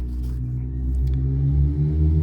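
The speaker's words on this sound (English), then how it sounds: "Car driving past, or bike in this case." A motorbike rumbles past nearby, a low engine drone swelling and easing over a couple of seconds, with no one talking.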